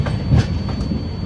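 A passenger train rolls along the rails on a long-distance Kerala to Ajmer journey, a close, steady rumble with a faint clickety-clack running throughout, no voices.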